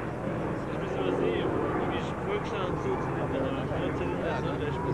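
A group of P-47 fighter planes takes off at an air show at La Ferté-Alais, giving a loud, steady, rumbling piston-engine roar at some distance, with a voice talking over it.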